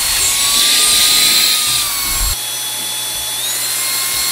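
A SmartAI H5 handheld vacuum cleaner runs steadily on its strong setting with a loud, high-pitched motor whine that shifts pitch slightly partway through and continues unbroken to the end.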